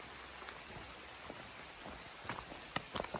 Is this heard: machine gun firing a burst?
no